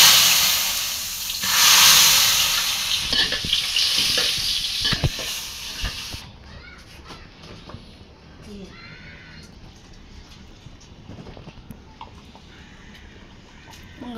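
Bay leaves and dried red chillies frying in hot oil over a home-built village stove give a loud broadband sizzle with stirring scrapes, which drops abruptly to a quieter crackle midway, with faint voices at times.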